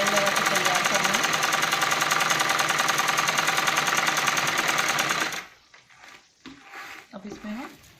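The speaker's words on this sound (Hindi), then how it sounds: "हम इस साइड को भी सिलाई लगा के तैयार करेंगे" A sewing machine runs in a fast, steady whirring rattle while stitching a balloon salwar, then stops abruptly and a voice follows.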